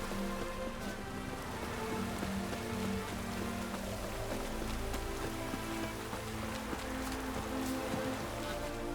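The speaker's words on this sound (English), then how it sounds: "Lots of fuss over lots of rain." Rain falling in The Witcher 3: Wild Hunt, a continuous hiss of drops pattering on surfaces with a low ambient game bed underneath, steady throughout and with no voices.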